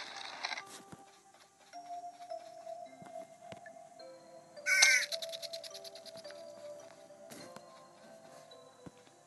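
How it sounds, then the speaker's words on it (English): A bird struck by a punch in a puzzle video game gives a short burst of crow-like cawing, loud and sharp amid soft game music and chimes. "Okay, I punched the bird."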